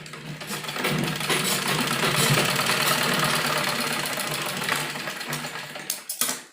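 A sewing machine stitches the bell sleeve of an umbrella frock: a loud, close, continuous whirring hum with a rapid rhythmic beat that runs for several seconds before easing off, with no talking.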